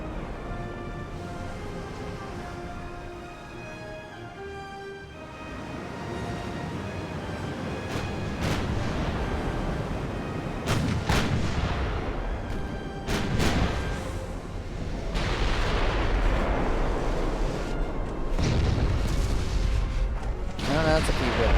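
Naval gunfire and shell impacts during an 1890-era battleship engagement in Ultimate Admiral: Dreadnoughts, with repeated booming bursts and rumbling hits over a steady din, spoken commentary running throughout.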